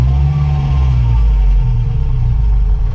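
A supercharged 22R engine idles in a 1960 Rambler, a steady, loud low rumble with a slightly high idle speed, close by and continuous with no talking.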